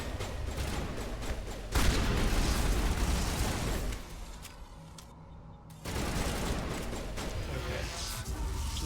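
Shotgun fire and heavy combat roar in the Mass Effect video game, a dense loud barrage of blasts and crackling that drops briefly to a quieter lull before the din resumes; no talking.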